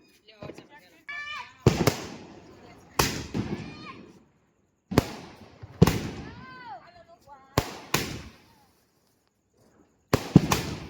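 Kothi fountain fireworks lit during a Diwali celebration, a series of sharp bursts and crackling pops repeating every second or two, loud and close, with people talking and exclaiming between them.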